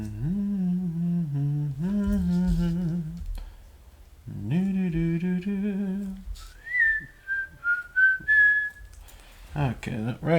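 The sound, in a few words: person whistling while working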